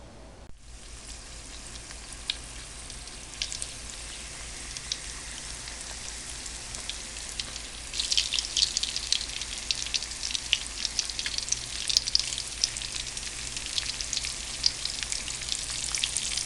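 Pumpkin blossoms coated in flour fry in hot oil, a steady close crackling sizzle that grows busier and louder partway through, with no talking.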